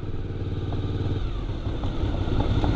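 A dirt bike engine runs steadily close by, a loud throbbing idle with slight rises in revs and some mechanical clatter.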